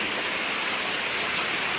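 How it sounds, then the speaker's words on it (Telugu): Sudden heavy rain at a village home with a leaking roof, pouring in a steady, dense, loud roar with no pause. "మామూలు వర్షం కాదు చూడండి ఫ్రెండ్స్ సడన్గా వర్షం"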